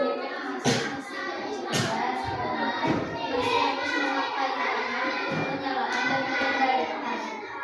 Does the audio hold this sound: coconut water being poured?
no